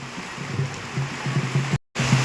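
Heavy rain pours down outdoors, heard from under a tree and umbrella, as a constant broad rushing hiss with a low hum beneath and a brief dropout near the end.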